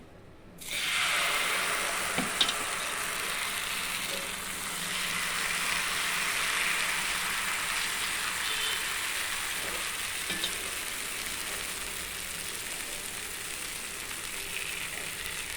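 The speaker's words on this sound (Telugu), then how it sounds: "ఇంకోటి తీసుకుందామండి ఇంకో దోశ వేద్దాము" Dosa batter sizzles steadily on a hot pan after a short silent start, a loud continuous hiss with a few faint clicks of utensils, with no talking.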